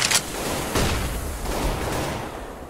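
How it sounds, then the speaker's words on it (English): A flashbang grenade detonates in a first-person shooter game, a loud sharp blast followed by a rolling, noisy rumble and further dull booms. "Flashbang."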